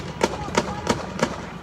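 Four evenly spaced gunshots ring out at a distance outside a bank during a protest, with a faint background hum.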